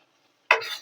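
After a short silence, a spoon scrapes through onion masala roasting in a pan, giving one abrupt stirring scrape followed by a brief sizzle, close and fairly quiet.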